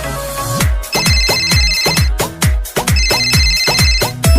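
A mobile phone ringtone plays loud and close, a bright melodic tone pattern that repeats in quick, even pulses for the whole stretch with no voices.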